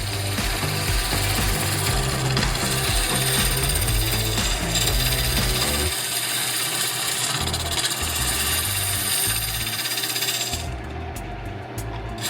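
Badger Cub hollowing tool cutting into Hawaiian koa end grain on a spinning lathe, a loud, continuous rough chatter and grinding that shifts tone midway and thins near the end.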